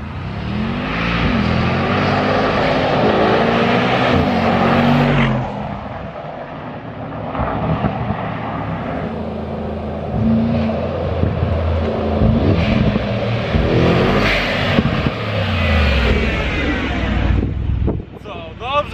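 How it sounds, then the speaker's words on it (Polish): Brabus G800 SUV accelerating hard, heard from the cabin with a loud, continuous engine roar and wind rush that surges, eases briefly midway, then builds again before dropping off near the end. "posłuchajcie, jak podczas jazdy brzmi ten samochód"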